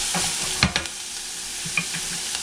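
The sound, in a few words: onions frying in a pan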